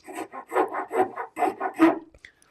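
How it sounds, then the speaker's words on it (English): A fine rasp files the corners of a wooden piece clamped in a vise, making about nine quick, rhythmic scraping strokes close up, each a short rough rasp with brief gaps between. "Even though this is a fine rasp, if you push hard, you're still going to remove material quite quickly."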